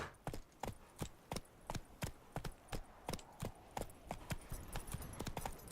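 Roach the horse galloping in The Witcher 3, with rhythmic hoof clops in quick, even pairs, close and clear over a soft background.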